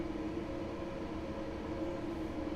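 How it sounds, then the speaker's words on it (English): A Barbie-themed train in Train Sim World 3 rumbles past in a steady, continuous drone, moderately loud and even throughout. "There's another Barbie train going past us there, folks."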